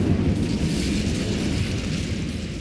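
In Hogwarts Legacy, the Incendio fire spell is cast as a steady, rumbling roar of flame that stays loud and low-pitched throughout, with no speech.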